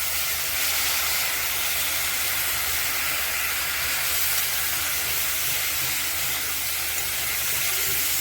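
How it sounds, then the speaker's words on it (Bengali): Spices and shal bora sautéing in a pan, giving a steady, loud sizzling hiss that holds at an even level throughout. "এটা এখন কষায় নেব, অল্প অল্প সময় কষালে হয়ে যাবে"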